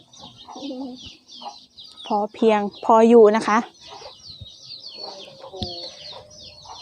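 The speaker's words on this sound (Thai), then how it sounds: "การเลี้ยงเป็ดเลี้ยงไก่ค่ะ" Backyard chickens cluck and squawk in uneven bursts, with a louder run of loud calls midway, heard close while someone speaks over them.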